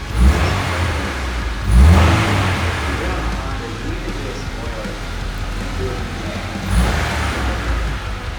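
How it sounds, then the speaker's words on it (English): A 1998 Honda Civic EX engine idles with a low rumble, rising in brief revs near the start and again toward the end, with faint talk in the background. "I'm gonna fire it up, give it a couple revs"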